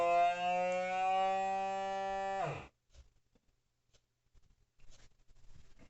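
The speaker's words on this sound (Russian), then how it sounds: "И провакуумируем первый пакетик" A Laimeng vacuum sealer pumping the air out of a plastic bag holding small sabre carp gives a steady, buzzing motor drone that cuts off abruptly partway through, leaving near silence with faint handling noises.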